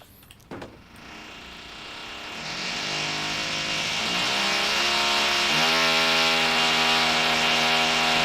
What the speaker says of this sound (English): It does not sound like they're using the right drill.